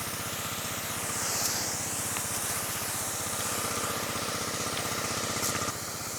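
A small engine idles steadily at close range, a continuous low chugging hum with an even rhythm that holds throughout.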